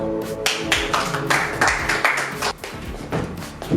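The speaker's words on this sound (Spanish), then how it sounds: "Y aquí la gente aplaude." Applause breaks out after a magic trick performed by a guest at a magic academy, a dense spread of claps that mixes with low thuds and stays steady and fairly close for the whole stretch.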